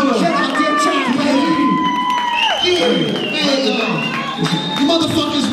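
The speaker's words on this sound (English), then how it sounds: "everybody give a round of applause for Scylla" Crowd at a hip-hop show at the Roxy cheering, shouting and whooping loudly and continuously for Scylla, with scattered claps in a dense, boisterous din.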